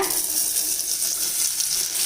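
Chopped chayote sizzling steadily in hot coconut oil, a constant close crackle with no talking.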